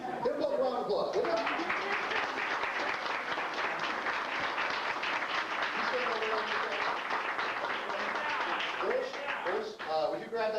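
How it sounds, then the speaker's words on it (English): Audience applause at a university class reunion: a dense, even wash of clapping that carries for several seconds, with voices talking at the start and end. "Give them both a round of applause, will you?"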